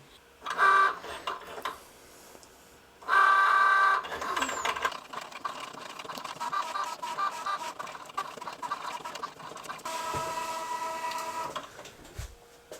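Cricut Joy cutting machine cutting a design for a school binder cover, giving a steady mechanical whir with two louder motor bursts near the start and a later surge, close by with no talk.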